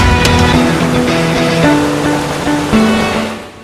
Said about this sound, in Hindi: ये है गौमुख वाटरफॉल। 2 भागों में गिरता हुआ ये वाटरफॉल काफी सुंदर दिख रहा था।